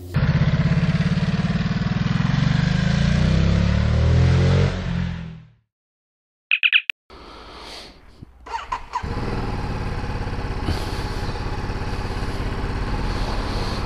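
Ducati DesertX motorcycle riding through town in sport mode, a loud steady engine drone that cuts out to silence, gives a brief chirp, then returns with a lower idle and rising revs.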